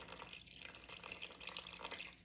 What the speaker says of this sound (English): we're gonna add 300 grams of water. This is warm bottled water.